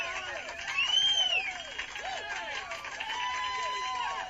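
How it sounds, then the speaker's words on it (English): Crowd cheering sound effect played during a live stream, a loud steady roar of many voices with whistles and rising shouts running throughout. "Everybody cheer for my little pee-pee."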